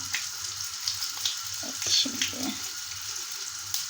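Hot oil sizzles and crackles steadily while deep-frying sesame balls, with brief bubbling bursts and faint clinks, close by, with no talking.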